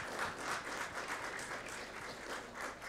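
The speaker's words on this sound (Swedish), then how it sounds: "En applåd för Linnea också." Faint, fairly distant applause from the audience at a book launch for the Katolsk Studiebibel, given for Linnea; a soft wash of many hands clapping steadily throughout.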